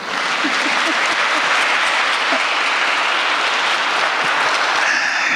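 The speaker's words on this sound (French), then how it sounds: "Applaudissements pour Élie, s'il vous plaît." A lecture audience claps loudly and evenly, with dense, continuous applause that holds at the same strength for over five seconds with no talking over it.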